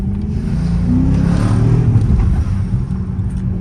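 A Dodge Charger RT rolls through city traffic with a steady, close engine rumble and a slight rise in revs midway, heard from inside the car with no talking.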